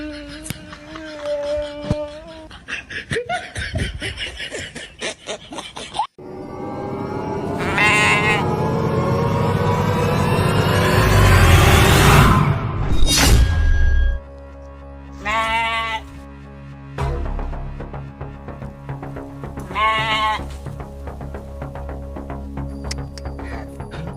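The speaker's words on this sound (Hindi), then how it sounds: "वो तीसरी भेड़ का बच्चा किधर गया?" Sheep bleat repeatedly, several loud drawn-out calls spaced apart, amid a sustained noisy rumbling stretch and a steady background hum.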